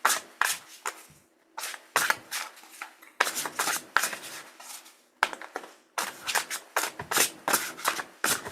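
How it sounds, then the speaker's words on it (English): Tarot cards shuffled by hand, heard as repeated crisp riffling bursts in an uneven rhythm, close and fairly quiet with short gaps between them. "Need to shuffle them a little bit first."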